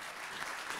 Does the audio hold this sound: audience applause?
yes